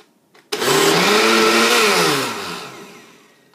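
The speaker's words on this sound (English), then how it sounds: "put it back in the blender, put the agave in it, and then blend it again" A blender whirs loudly for about three seconds as it blends a chlorophyll drink with agave, starting abruptly, holding a steady motor whine, then winding down.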